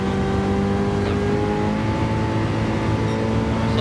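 Race car with good downforce taken flat out around a corner, its engine droning loud and steady at full throttle, close and with no voices.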